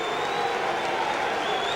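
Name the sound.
stadium crowd applause as Keighley Cougars take the field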